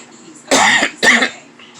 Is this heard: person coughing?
yes